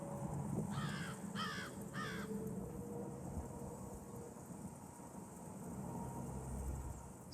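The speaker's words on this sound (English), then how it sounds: "And you'll also see a lot of crows out here." Three short bursts of crow cawing ring out in the first two seconds at a Florida state park, each a quick rapid series of harsh calls, mid-distance over a steady outdoor ambience that carries on alone afterwards.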